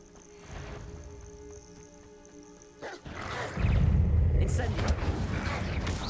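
Dog barks in Hogwarts Legacy, a video game, loud and close in the second half over a dense rumble of combat and spell effects, with game music running through the opening.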